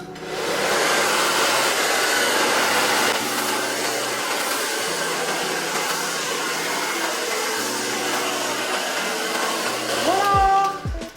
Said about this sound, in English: you want to go around the hairline and blow dry around the hairline